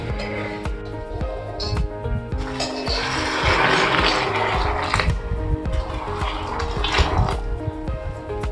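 Boiled water pours onto peanuts in a plate, a loud, close, continuous splashing and gurgling stream that swells in the middle and carries on throughout.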